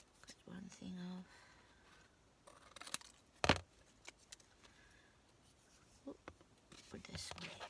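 Scissors snip through paper while making a stamped craft box for tarot cards, a few short crisp cuts close by with quiet handling sounds and faint whispery noise around them.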